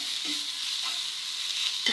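A spoon stirring Kashmiri red chili powder and garam masala into an egg roll filling in a pan, with a soft steady sizzle and a couple of light scraping strokes, no voices.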